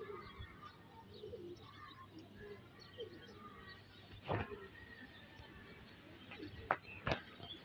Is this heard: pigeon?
yes